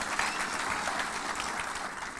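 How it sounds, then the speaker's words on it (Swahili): A crowd claps steadily and continuously, a dense wash of applause at moderate distance with no pauses. "Ipigieni makofi kwa watu wa soccer"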